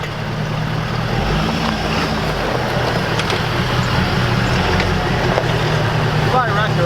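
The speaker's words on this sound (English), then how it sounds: "Sounds like a Ford." A Ford pickup truck's engine rumbles loudly and steadily at close range, a continuous low drone that holds for several seconds with no clear pauses.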